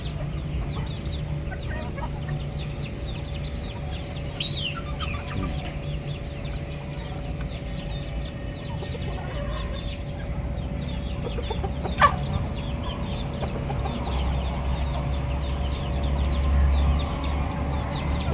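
A rooster and hens in a home yard give repeated clucks and short calls over a steady low background hum, with one sharper squawk partway through and no talking.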